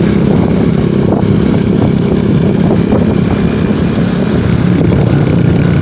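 A motorcycle in a low gear, second or third, rolls downhill on a country road from Bacon, Sorsogon to Manito, Albay, with a steady, loud engine drone and rushing wind noise throughout.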